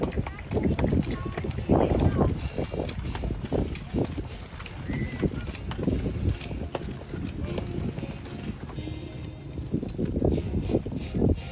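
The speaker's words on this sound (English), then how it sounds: "And Sarah Ball accompanies Trevor, the winning six horse hitch today from McKeown Farms in Fergus, Ontario." A six-horse hitch pulling a wagon in a driving class at a fair competition trots past with steady, rhythmic clip-clop hoofbeats, close and fairly loud, while an announcer talks over the sound.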